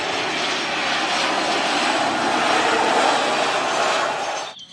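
A toy airplane gives off a steady, loud engine-like roar that holds evenly for several seconds, then cuts off abruptly near the end, with no voices over it.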